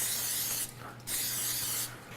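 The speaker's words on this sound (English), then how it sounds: "we're going to add some cooking spray to our ramekins" Cooking spray hisses into two ramekins in a pair of close aerosol bursts, the first short and the second longer, separated by a brief pause, with no talking.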